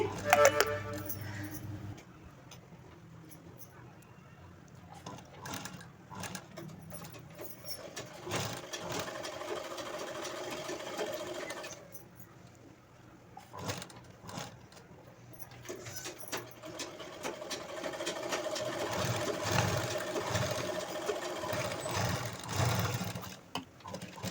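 Sewing machine stitching around the neckline of a long frock, a close whirring run of stitches that stops and restarts as the fabric is turned at corners, with brief clicks and pauses between runs.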